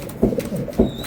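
Racing pigeons cooing in a loft: two low, throaty coos about half a second apart, close and fairly loud, with no talk.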